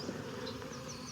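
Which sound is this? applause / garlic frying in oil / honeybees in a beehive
honeybees in a beehive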